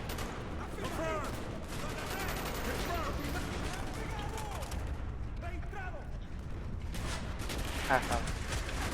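Rapid bursts of gunfire and explosions from the video game Call of Duty: Black Ops, dense and continuous, mixed with game sound effects and a player talking over them.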